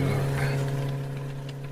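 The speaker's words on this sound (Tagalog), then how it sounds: "Pangit na ti turungan ti motor." A motorcycle engine sound effect in an Ilocano radio drama idles as a steady, moderately loud low drone with a humming tone, while faint background sounds flicker over it.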